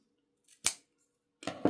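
Scissors snip off excess material: one short, crisp cut, then a pause and a second, longer cutting stroke, close and quiet in an otherwise silent room.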